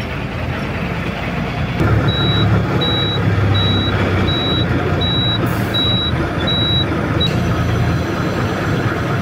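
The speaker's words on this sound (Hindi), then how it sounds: "देखिए कंटेनर अंदर जा रही है" A container truck rolls into a yard by a weighbridge queue. A loud, steady engine rumble is overlaid by a regular series of high reversing beeps through the middle stretch.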